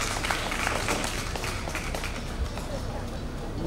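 An audience applauds folk dancers and a band at the opening ceremony of a Hungarian wine festival, producing a dense, even patter of clapping at moderate distance that holds steady throughout.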